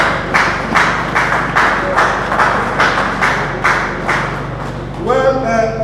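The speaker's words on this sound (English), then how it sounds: "Please, you can clap your hand." Audience hand clapping at an Oguta vigilante community program broadcast on television, with about a dozen evenly spaced claps in a steady rhythm and a voice and other sounds entering at the end.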